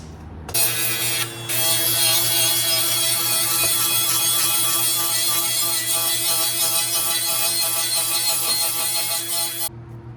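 Steel trailer hitch being ground: a loud steady whining grind held for about nine seconds, a brief dip early on, then cutting off abruptly.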